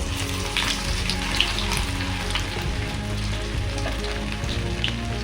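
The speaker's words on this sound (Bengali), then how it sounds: "তেল ভালো মতো গরম হয়ে গেছে, এবার আমি আদা কুচিগুলো দিয়ে দেবো।" Chopped ginger dropped into hot oil in a pan sizzles loudly and steadily up close, a dense crackling hiss with small popping spatters throughout, no voices.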